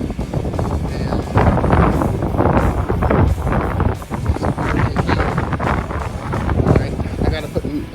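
Strong gusts buffet an outdoor microphone with a loud, continuous low roar and rumble that swells and dips throughout, while work on a 1969 Chevelle frame and crossmember goes on in the background.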